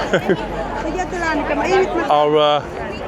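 Tightly packed crowd at the front of a horse guard, constant close murmuring chatter of many voices with a few clearer nearby voices rising out of the babble.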